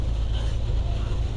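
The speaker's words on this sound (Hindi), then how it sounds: "बहुत तेज़ हवा चल रही है और बहुत तेज़ बारिश भी हो रही है साथ" Strong wind roaring in heavy, continuous low buffeting during a storm in Hillsboro, Texas, with wind noise on the microphone and rain folded into the roar.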